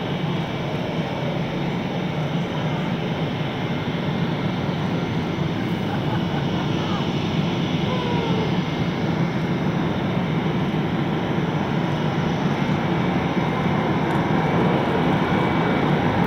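Blue Angels jets roll down the runway in afterburner at an air show, a continuous broad roar that holds steady and loud throughout without a break.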